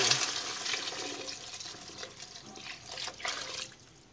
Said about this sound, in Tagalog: Lagyan natin ilagay ang sabaw